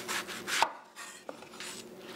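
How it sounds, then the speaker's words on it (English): Knife slicing the ends off a red onion on a cutting board, a few crisp close chops and firm board knocks in an uneven rhythm, with no voices. "For the red onion, you're gonna cut off both of the end."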